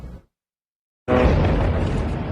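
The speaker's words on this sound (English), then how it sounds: "A deadly explosion rocking a Gaza neighborhood not far from homes where children are playing" A brief sound cuts off into silence, then a sudden loud explosion booms in a Gaza neighborhood and continues as a heavy, sustained roar.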